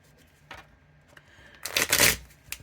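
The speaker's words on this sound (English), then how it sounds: "And I'm going to shuffle." A deck of cards being shuffled, with a short riffle near the start and a louder, longer burst of riffling about halfway through, close and crisp with no talking.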